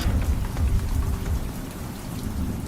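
Heavy rain falls steadily and loudly, with dense patter on surfaces and a low rumbling undertone like distant thunder, continuous throughout.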